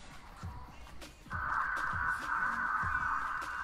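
Ravens in a video game give several loud, harsh caws in a ragged rhythm over a steady high ambient tone, with no talking.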